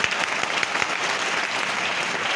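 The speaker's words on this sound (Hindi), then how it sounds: "एक बार दिल से पेरेंट्स लोगों के लिए भी जोरदार ताली होनी चाहिए" An audience of parents claps loudly in a dense, sustained burst of applause, with no break in the sound.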